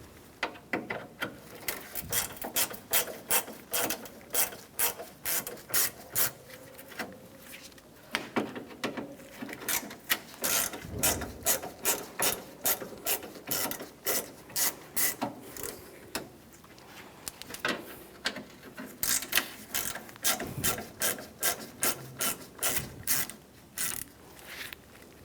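A Phillips screwdriver backs out grille screws on a 1997-2001 Honda CR-V, a quick rhythmic ratcheting click in repeated runs with short pauses between screws, close and fairly quiet.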